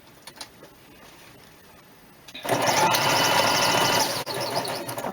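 A sewing machine runs a steady straight stitch along the edges of placemat fabric, starting after a quiet pause and then whirring loud and close in a continuous run with one brief dip near the end.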